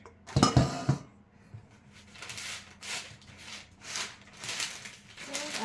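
Granola being spread and smoothed across a baking pan with a utensil: a loud metallic clatter at the start, then soft repeated scraping strokes in an uneven rhythm, close by.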